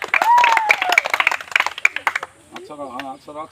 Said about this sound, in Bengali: সবাই একটু হাতে তালি একসাথে